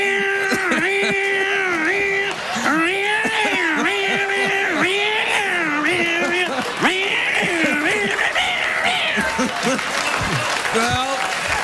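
A voice imitates a screeching cat, drawing out wailing, pitch-bending squalls that resemble bagpipes. The squalls run continuously and loudly over cheering audience applause on a talk show.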